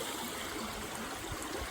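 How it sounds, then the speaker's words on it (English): Creek water pours steadily over a drop-off at a new gold-prospecting creek, a continuous close trickle and gurgle with no talk. "You get the water coming out here, and there's a drop off right here."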